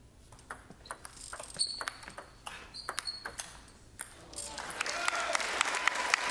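Crowd applause with cheering at the 2012 NCTTA men's table tennis final in Plano, with scattered claps and ball pings early, then swelling into dense, loud clapping over the last seconds.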